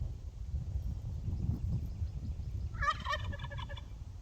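A tom turkey gobbles once in a rapid rattling burst, moderately distant outdoors, after a stretch of low wind rumble.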